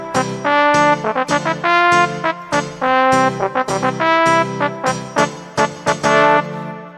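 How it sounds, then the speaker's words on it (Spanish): Trumpet sample from a cumbia/huayno sound pack played back in Reason software, a bright brassy melodic phrase of sustained notes and quick runs, clear and alone with no voices. "primero probamos esta trompeta"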